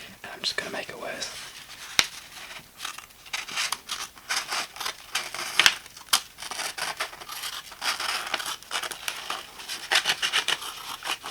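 Close, crisp snips and rustles of scissors cutting paper come in uneven bursts alongside scratchy handling, while a person whispers softly throughout in an ASMR setting.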